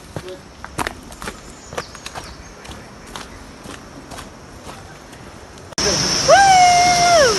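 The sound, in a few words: waterfall and footsteps on a nature walk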